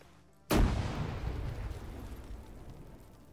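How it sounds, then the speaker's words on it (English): A grenade goes off inside a building in the military shooter ARMA 3: one sudden loud blast after a quiet half second, followed by a long rumbling, echoing decay that fades slowly. "Grenade inside."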